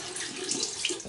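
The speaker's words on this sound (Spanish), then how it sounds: "Con agua tibia hay que limpiar." Warm tap water runs into a sink for face washing, a brief close splashing hiss that stays steady and uninterrupted, with no voices.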